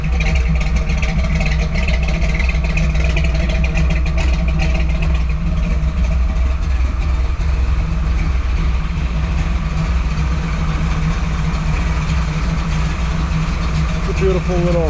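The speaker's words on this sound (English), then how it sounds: "exhaust systems on it, dual exhaust. On our website you will see the underneath pictures. It all sounds good." A 1979 Jeep CJ-5 Renegade V8 idles steadily through dual exhaust, a loud, close, continuous low rumble with a slight uneven lope and some clatter throughout.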